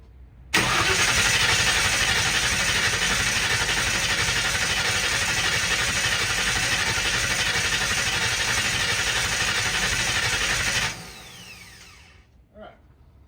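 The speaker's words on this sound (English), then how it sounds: "Let's see if we can crank this over until that thing starts squirting out of it." An old car engine is cranked over by its starter for about ten seconds. It gives a loud, steady, churning whir and then stops abruptly, followed by faint clicks.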